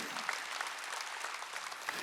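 A church congregation at a Wednesday worship service applauds in a steady, dense wash of clapping that stays even from start to finish, heard from a moderate distance and fairly quiet.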